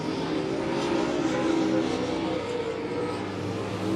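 Late model race cars roar around the Monett Motor Speedway oval in a heat race, a dense, steady engine drone heard from the stands that swells slightly as the pack passes.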